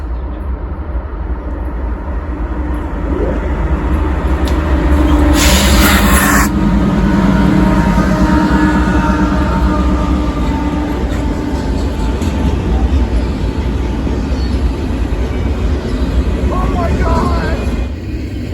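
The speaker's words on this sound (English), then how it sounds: "is my first catch of an extra train on Norfolk Southern." A Norfolk Southern intermodal freight train, an extra run between Chicago and Norfolk with foreign locomotives in the consist, rumbles past at length, with a horn blast early on and steady rolling rail noise throughout.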